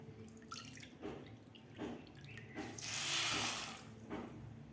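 Water pours and splashes into a pan of sugar in a few short bursts, then a longer, louder stream, close by with no talking.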